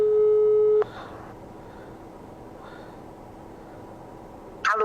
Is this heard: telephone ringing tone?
yes